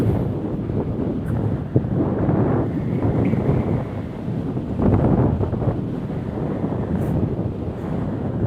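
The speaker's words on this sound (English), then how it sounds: "this wind definitely isn't going to help anything" Strong wind buffets the microphone during a bike ride, a loud continuous low roar with gusty surges and no talking.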